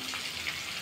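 Spices and beans fry in a pan for a Bengali flat bean paturi dish, giving a steady, close sizzle with no talking over it.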